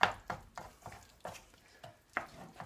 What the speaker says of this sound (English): Just spend a few minutes now just to chop that into the gravy mix.